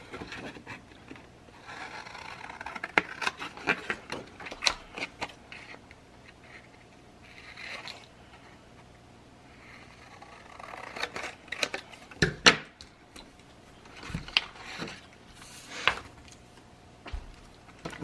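Paper being trimmed for scrapbook tags, with a run of crisp snips and scraping cuts coming in irregular clusters, close and fairly quiet, with soft handling rustles between them and no talking.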